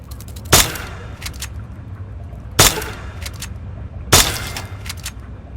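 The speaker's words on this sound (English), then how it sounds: "Think you can take care of that with your BB gun? Just aim and shoot." Three BB gun shots at a radroach in Fallout 3, each a sharp crack spaced about two seconds apart with quick clicks and rattles after each, close and loud over a low steady game ambience, with no talk.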